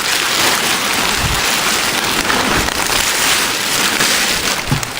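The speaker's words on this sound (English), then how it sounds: "If you can hear me over the rain, hopefully the rain doesn't get too loud" Steady rain drumming outside a farm shed, a dense unbroken hiss of drops on the surface, loud and close throughout with no voices.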